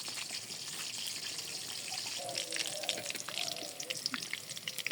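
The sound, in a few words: chopped onion frying in a pan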